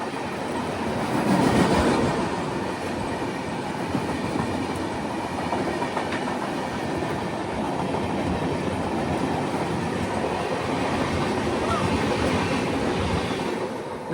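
A train rolls past on the Nagercoil to Shalimar Gurudev Express route from Kerala to Bengal, a loud, steady rumble with rhythmic wheel clatter that swells briefly early on and continues unbroken, with no talk.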